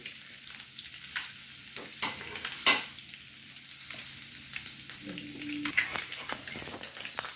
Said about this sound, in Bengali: এবার এইভাবে তাওয়ার উপর দিয়ে দেব।